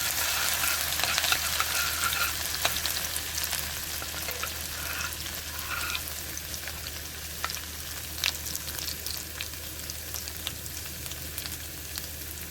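Cumin seeds and ginger frying in a pan produce a continuous, fairly loud hiss and crackle, with occasional sharper pops and scrapes of stirring scattered through.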